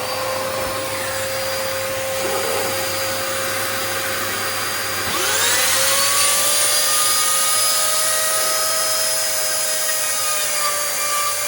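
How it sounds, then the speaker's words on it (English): A dust extraction vacuum runs steadily with a loud droning whine and a tonal hum during woodworking, rising in pitch midway as a tool spins up. "Let's just turn the dust extraction on"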